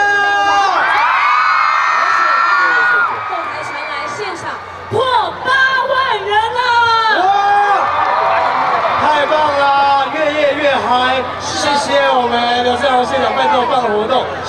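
A live outdoor concert crowd in Miaoli screams and cheers loudly and continuously, high shrieks and whoops layered over a dense roar that dips briefly midway before surging again, close and intense.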